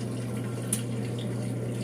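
Water flows steadily into a Brastemp 5 kg washing machine as it switches into rinse mode, a soft continuous wash of liquid over a low steady machine hum, with one brief faint click partway through.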